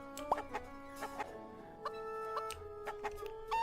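Several chickens cluck in short scattered bursts in a Fantasy Farming game, fairly quiet and alone, with steady tonal background music underneath.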